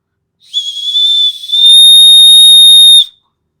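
A shrill, high emergency whistle on a Leatherman multi-tool blown twice, a short blast followed by a longer sustained one, loud and close.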